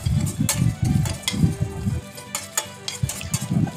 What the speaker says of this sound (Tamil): அடுப்பை சிம்லேயே வச்சு நல்லா ஃப்ரை பண்ணிக்கோங்க